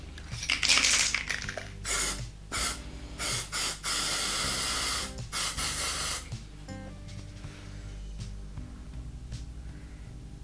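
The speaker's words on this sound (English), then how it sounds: "I will use the spray paint and I will spray it in this little cup" Gold spray paint hisses from an aerosol can in several bursts into a small cup for acrylic pour fluid art, loud and close in the first six seconds, then quieter rattling and faint handling noises.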